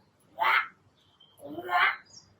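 A voice imitates a crow's caw twice, two harsh nasal calls about a second apart, fairly close and clear.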